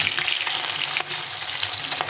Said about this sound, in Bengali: এইভাবে ভালো করে মাছগুলোকে ভেজে নিতে হবে